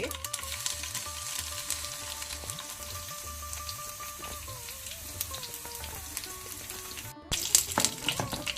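Onion and garlic fry with mustard seeds in hot oil, a soft steady sizzle with light stirring, then a louder burst of clatter near the end.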